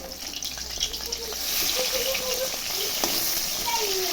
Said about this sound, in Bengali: এই পিসটা এখন ভেজে নিচ্ছি।